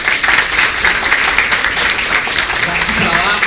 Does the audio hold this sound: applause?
yes